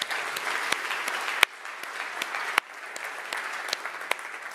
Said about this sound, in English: So let's give a round of applause for all three.